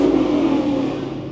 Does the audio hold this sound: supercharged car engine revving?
yes